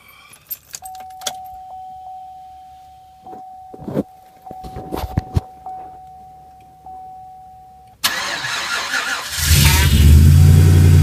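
Keys jangle and a cold 2006 Sierra truck that has sat unplugged in freezing weather is started: a long thin starter whine with clicks, then the engine catches at about eight seconds and settles into a loud, rising idle roar.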